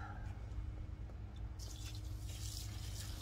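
Water being poured into a pot of beeswax for rendering, a faint trickling and splashing that swells partway through over a low background hum.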